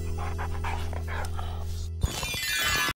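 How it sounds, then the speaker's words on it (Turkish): A dog close by in a home setting, faint panting and soft whimpering sounds over a steady background hum that cuts off partway, with no talking. "ne şirin bir köpek"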